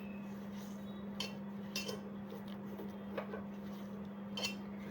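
Kasuri methi and spices being mixed in a bowl for dahi bhalle, with faint, sparse clinks and scrapes of a utensil against the bowl over a steady low hum.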